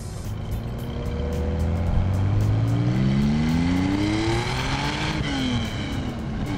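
A 1973 Porsche 911 2.7 RS on the move, its engine droning steadily and close with a rising pitch as it accelerates through the gears, no talking over it.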